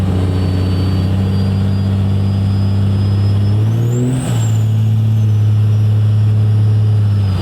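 A diesel truck fitted with a compound turbo kit runs at steady idle, then revs briefly around the middle as the turbo spools with a rising whistle before settling back; close and loud, no talk.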